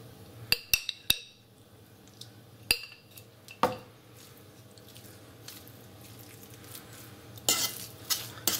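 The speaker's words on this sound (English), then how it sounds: "And we're gonna mix everything together." Smoked mackerel spread being mixed with mayonnaise in a bowl, heard as a series of sharp utensil clinks and taps against the dish followed by softer, wetter stirring and scraping, close and fairly quiet.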